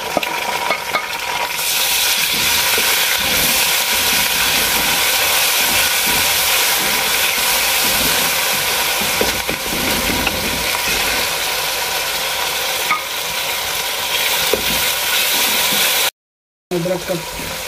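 Garlic and ginger paste sizzles loudly in hot frying oil with onions in a pan for Lahori paye, a steady close crackling hiss with faint stirring that cuts off near the end.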